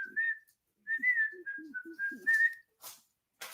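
A person whistles a short, bright melodic phrase, close and clear, with soft breathy voice sounds under the notes and brief pauses between them.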